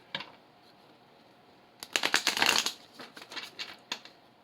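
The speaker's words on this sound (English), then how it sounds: "So one more shuffle." A deck of tarot cards being shuffled up close: a few faint taps, then a quick burst of riffling card flicks, followed by scattered softer snaps as the deck settles.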